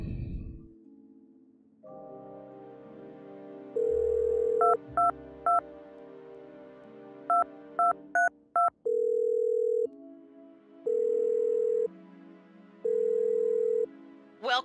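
A telephone handset in a spy-themed puzzle video game gives a steady dial tone, then a run of clipped touch-tone beeps in quick bursts and pauses, followed by longer repeated tones, all clean and close with no voices.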